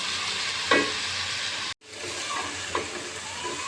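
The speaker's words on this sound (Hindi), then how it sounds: "ये हमने हरी प्याज शामिल कर दी है। इसको हम 3 से 5 मिनट फ्राई करेंगे।" Green onions sizzling in a pan over a browned cumin and garlic tempering, a steady soft hiss with occasional stirring scrapes and one brief break in the sound.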